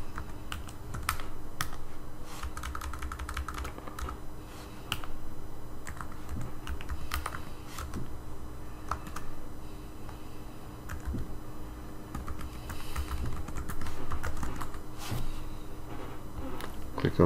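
Fingers type an email address on a computer keyboard, a close, continuous patter of clicks and key taps over a low steady background hum.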